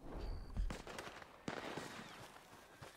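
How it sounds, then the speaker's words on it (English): Scattered gunshots in the Western game Red Dead Online, a few sharp cracks spread across a few seconds, some close and some more distant, over a low rumbling backdrop with no talking. "Who's shooting?"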